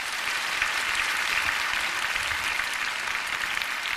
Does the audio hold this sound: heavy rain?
no